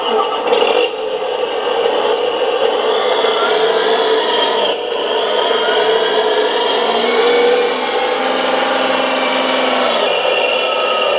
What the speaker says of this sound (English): that's a John Deere 8420, if anybody wants to know what sound file it is